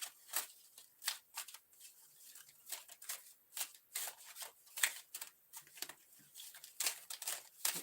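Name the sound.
shuffling romance angel tarot cards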